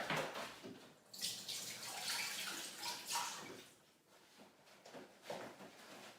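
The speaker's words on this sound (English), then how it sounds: "Okay, wash your hands." Hands being washed under a running kitchen tap while cooking jerk chicken, a steady close rush and splash of water with shifting spatter as the hands move through the stream.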